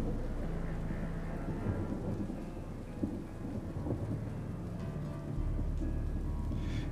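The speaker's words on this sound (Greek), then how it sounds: "Έξω βρέχει." Steady rain falls outside, a dense continuous wash with low rumbling like distant thunder, heard alone without talk.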